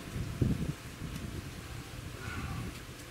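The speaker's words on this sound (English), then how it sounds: "A little bit of wind here." Light wind rumbles and buffets the microphone outdoors at an airgun shooting spot where a Benjamin Akela PCP bullpup air rifle is being set up for group shooting, a steady low blustery hiss with one brief stronger gust early on.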